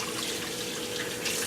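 A kitchen tap runs steadily into a sink while something is rinsed under it, a continuous close splashing flow without pauses.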